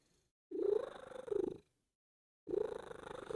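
A pet cat purrs close by in two bursts with a pause between, a steady low rumble with some vocal edge, heard alone without talk.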